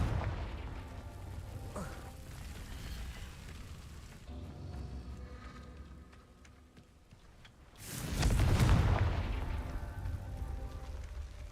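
A Confringo blasting curse goes off in Hogwarts Legacy, a loud bursting explosion with a broad, rumbling boom around the eighth second, set among softer game effects and background rumble.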